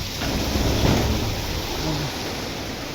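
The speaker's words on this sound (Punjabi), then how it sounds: "ਮੀਂਹ ਤਾਂ ਕਾਫੀ ਜ਼ਿਆਦਾ ਪੈ ਗਿਆ" Dense, steady rain pours down in a continuous broadband hiss with a low rumble underneath, loud and close throughout.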